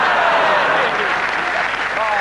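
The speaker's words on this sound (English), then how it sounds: "Round of applause," Studio audience applauding a newly introduced character named Miguel on a 1998 comedy show, a steady dense clapping wash with faint talk mixed in throughout.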